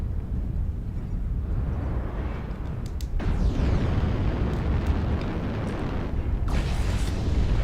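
Heavy airstrike explosions in MechWarrior Online roll out as continuous deep rumbling booms, loud and close, with a sharper crack near the middle and another burst of blasts near the end.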